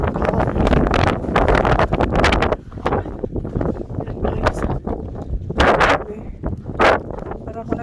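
Strong, blustery wind from a snowstorm in Madrid buffets the microphone in loud, roaring gusts that rise and fall, with a person talking now and then amid the noise.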